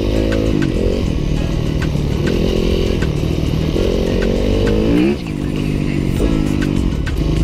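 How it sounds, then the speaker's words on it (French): A 2015 Yamaha WR250F dirt bike engine revs hard and close, its pitch climbing and dropping sharply in repeated bursts, with a brief dip near the end. "D'avoir des motos aussi vivantes, aussi, avec des montées en régime aussi brusques."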